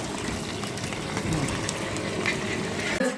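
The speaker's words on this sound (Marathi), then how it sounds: "मिरची फ्राय होती" Chili peppers fry steadily in hot oil, a dense continuous sizzle that stays loud and even for the whole stretch, with a small clatter near the end; no one speaks over it.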